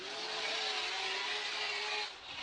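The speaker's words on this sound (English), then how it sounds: "Odi gassing it there against Field" A drift car accelerates hard during a Formula Drift 2015 Round 4 battle at Wall, New Jersey, its engine a loud, steady high-pitched whine that holds, then dips slightly near the end.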